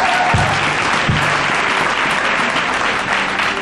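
A church congregation claps together in loud, sustained applause that fills the room evenly from start to finish, with a brief voice sounding underneath near the beginning.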